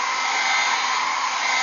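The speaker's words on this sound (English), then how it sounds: "And now I'm blow drying him." A blow dryer runs steadily and loudly while a freshly bathed dog is dried, a continuous airy whoosh with no pauses and no voices.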